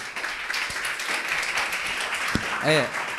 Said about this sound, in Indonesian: Bagus, bagus, kasih tepuk tangan